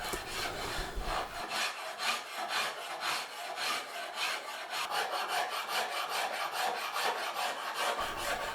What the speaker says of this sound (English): a quick fix with some Irisaka carving files to remove the bulk and material that I didn't want there